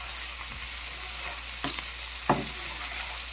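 Rice with shrimp being stirred in a hot pot, a steady frying sizzle with a few brief spoon scrapes and knocks against the pot, close and fairly quiet with no talking.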